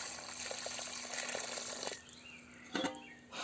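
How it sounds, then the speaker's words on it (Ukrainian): Water pours into a wide, deep planting hole dug for tomato seedlings in garden soil, 2 to 3 liters worth, a steady gushing wash that drops off partway through, then leaves a brief splash. "Сюди заливаємо від 2 до 3 літрів води і даємо їй"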